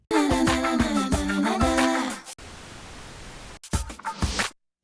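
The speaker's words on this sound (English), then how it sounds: "I wouldn't put pink noise there" Broadband hiss of pink noise alternates with a music track, the noise running steadily for about a second and a half between musical passages.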